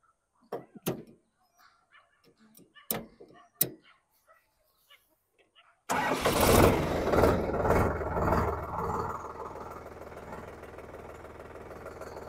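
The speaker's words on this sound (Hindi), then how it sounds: "मैं अब इसका आरपीएम का आवाज़ सुनाता हूँ कि ये 2000 आरपीएम पे कैसा आवाज़ करती है।" A Sonalika Tiger DI-50 52 HP tractor sits quiet at first with a few knocks and clicks, then its diesel engine starts loudly and settles into a steady, rumbling idle close by.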